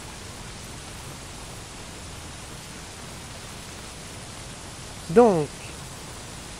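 Steady hiss of rain falling in the survival video game Don't Starve: Shipwrecked, an even constant wash with a brief spoken word rising over it near the end.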